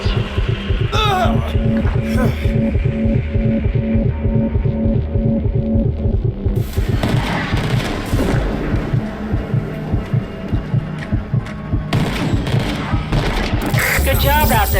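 Turret gunfire in the video game Rage 2 rattles in dense, rapid bursts over a throbbing low rumble and game effects, loud and continuous throughout.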